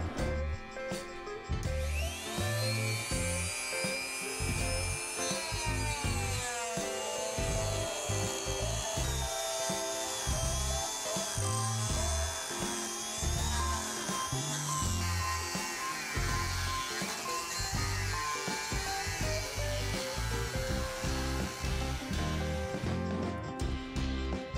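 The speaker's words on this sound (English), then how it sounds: "we can go ahead and break out the power tools." Continuous power tool noise, a whining, grinding cut through wood with rhythmic thumping beneath, loud and close for the whole stretch.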